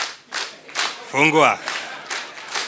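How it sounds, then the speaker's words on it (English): An audience at a TVET quality audit report launch claps for the session chair in short rhythmic bursts between spoken counting and a shout, with a voice calling out over the claps. "Now we clap for the sessional chair"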